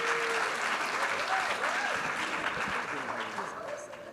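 A symposium audience applauds steadily, a dense wash of clapping that gradually fades a little toward the end, with a voice speaking faintly over it.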